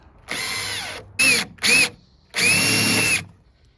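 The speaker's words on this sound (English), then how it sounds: "Holding the drill on the same level as the deck over there." A power drill whirs in three bursts while drilling into a boat deck: one long run, two short quick pulses, then another sustained run, close and loud.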